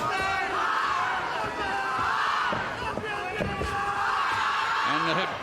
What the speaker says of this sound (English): Australian contingent with chants of oi, oi, oi in the crowd